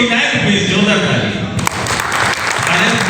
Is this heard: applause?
yes